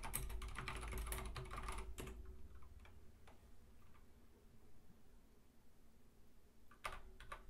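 Computer keyboard typing, faint and close: a flurry of rapid key clicks at the start, then sparse single taps over quiet room noise.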